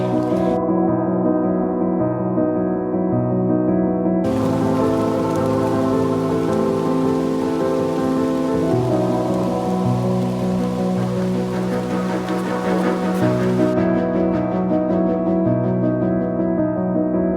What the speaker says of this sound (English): it's still raining a little bit, but it was raining pretty good, but not downpouring